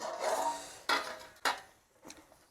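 A lid set onto a cooking pot of country chicken curry, giving a few sharp close metallic clanks and scrapes in quick succession, then a softer one.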